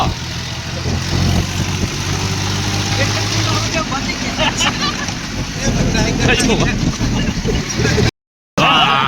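A tractor engine runs steadily and loudly throughout while driving on rough, roadless village tracks, a continuous low rumble with voices talking over it, before the sound briefly cuts out near the end.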